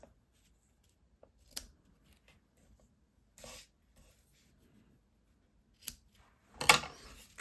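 Scissors trimming the ends of a ribbon bow on a handmade card, a few quiet, separate snips and rustles with pauses between them.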